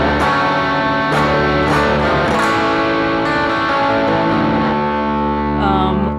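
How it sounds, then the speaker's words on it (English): Electric guitar played through a low-drive overdrive effect, sustained saturated chords ringing out with a few strummed attacks, loud and close, with no talking over it. "Let's add like a lower drive distortion. So this would be more of like an overdrive as opposed to a distortion."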